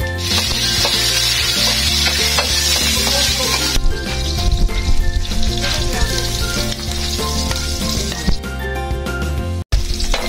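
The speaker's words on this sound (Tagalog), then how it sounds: "Now let us saute the garlic together with it." Garlic sizzles and fries steadily in a hot pan for chow fan, loud and close, with utensils stirring and scraping through it and no voices.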